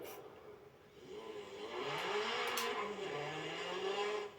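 A Renault Clio engine in a video game drones and revs, its pitch rising and falling, steady and fairly faint, with no talking.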